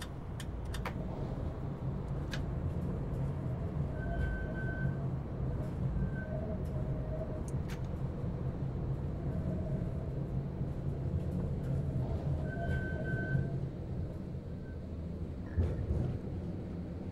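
A Vienna tram in TramSim Vienna pulls away at full throttle in rain, a steady low electric motor rumble with rising drive whine and occasional rail clicks and chimes throughout.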